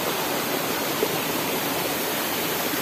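Rushing water from a backcountry stream and waterfall in the sertão, a steady, dense broadband roar that stays even and close throughout with no voices.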